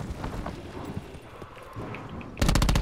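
Gunfire in the Call of Duty Blackout video game, scattered loud shots and impacts amid game noise, then a sudden rapid burst of automatic fire that carries through to the end.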